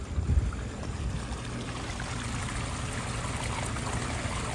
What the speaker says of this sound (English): The pump starts blowing the water.